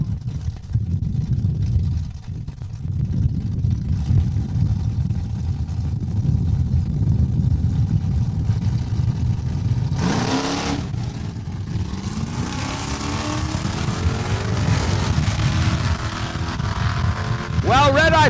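Mopar drag race cars launch down the track at Saskatchewan International Raceway, a deep continuous engine drone with sharp revving bursts, heard under an announcer's talk.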